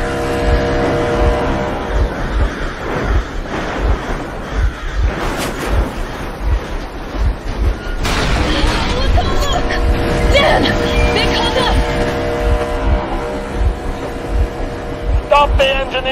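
A vehicle engine in the Metro Exodus video game runs with a steady rumbling drone and occasional revs throughout, layered under voices talking.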